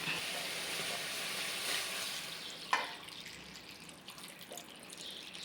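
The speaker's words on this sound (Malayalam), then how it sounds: "ഇനി ഇതിന് പാകത്തിന് വെള്ളം ഒഴിച്ചു കൊടുക്കാം." Water poured into a pot of washed jackfruit seeds, a soft broadband hissing splash that runs steadily, with a sharper clink partway through, then settles into quieter trickling near the pot.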